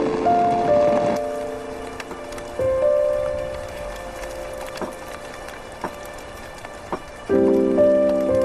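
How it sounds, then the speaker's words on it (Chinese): Steady rain falling in an outdoor setting during an imperial-era scene, a soft continuous patter with occasional sharper drops, partly overlaid by sustained musical tones. "怎么下雨了？"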